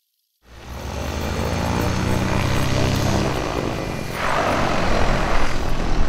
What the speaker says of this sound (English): the Blimp lands and will be secured on the mast before passengers disembark